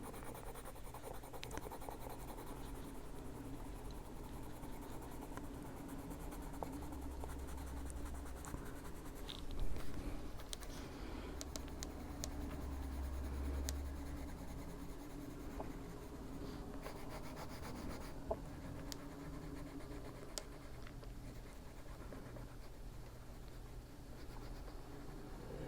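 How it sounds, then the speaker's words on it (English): A pale yellow colored pencil burnishes over paper with a soft, continuous scratchy rubbing, quiet and close, in long strokes with no talk. "we're going to bring in our pale yellow again and just kind of go over everything. Burnish it down."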